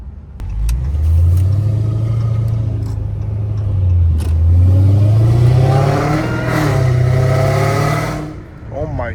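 A Dodge Hellcat Redeye with an 850 hp engine revs and accelerates hard from inside the car, its loud, deep roar climbing and falling in pitch through several pulls before backing off.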